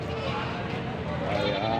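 Goats bleat at a rural livestock market, their cries blending with people talking nearby in a busy, continuous mix.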